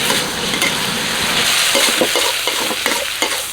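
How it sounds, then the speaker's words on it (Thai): Chinese kale and pork leg stir-fried over high heat, with a steady loud sizzle and repeated scraping strokes of a spatula in the pan, no voices. "ผัดไปเรื่อยๆครับใช้ไฟแรง"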